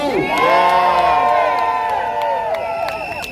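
A loud outdoor crowd at a house music celebration in Chicago's Daley Plaza cheers and whoops, voices shouting together in a sustained roar that fades slightly toward the end.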